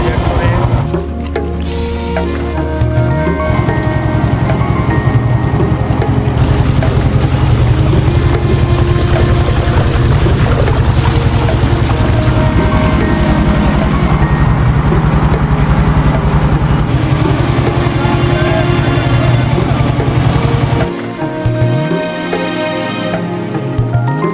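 Motorboat crossing the river toward Majher Char from the Alambazar ghat, its engine droning loudly and continuously with wind buffeting, a voice speaking over it, then the engine dropping away near the end.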